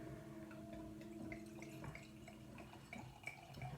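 Great Divide barrel-aged Old Ruffian ale pours into a glass with a steady liquid trickle and faint drips, close and moderately quiet, no voices.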